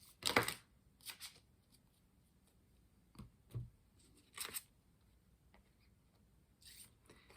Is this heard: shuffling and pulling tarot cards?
yes